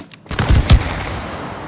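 Gunfire in the co-op game It Takes Two: a short burst of two or three sharp, loud shots close together, then a ringing tail that fades slowly.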